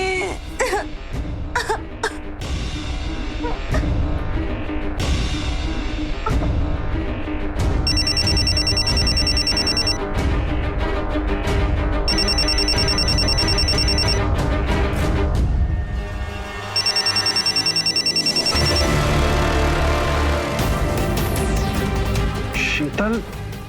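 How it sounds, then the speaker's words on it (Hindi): A telephone rings in a Hindi drama in repeated bright electronic bursts, three rounds of ringing mixed with loud dialogue and dramatic background sound. "फोन उठाओ।"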